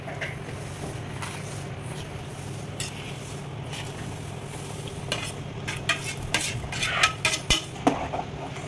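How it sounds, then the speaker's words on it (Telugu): Steady scraping and stirring as semolina is mixed into boiling water in a pot, with a low simmering hiss underneath and sharper clinks of the spoon growing louder toward the end. "రవ్వ మొత్తం వేసేసుకొని కలుపుకోవాలి"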